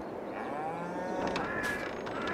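Cattle mooing inside a Farming Simulator 22 farm game, a couple of drawn-out, overlapping lowing calls at moderate volume over a steady low ambient bed, with no talking.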